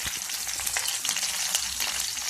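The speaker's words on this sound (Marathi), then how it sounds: "याला छान परतवून घ्यायचं" Chopped garlic sautés in a pan with a bright, continuous sizzle and crackle, steady and close, with occasional faint stirring scrapes and no talking.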